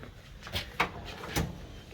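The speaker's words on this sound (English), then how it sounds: "The bottom drawer." The bottom drawer of a mechanic's tool box slides open in a home garage shop, with three short metallic clunks and rattles spread over a couple of seconds.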